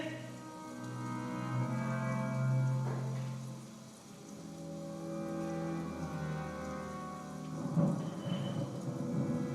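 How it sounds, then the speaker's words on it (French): Thunderstorm with rolling thunder and steady rain, a low continuous rumble that swells and fades over several seconds with rain hissing underneath, in a French drama scene. "quel orage!"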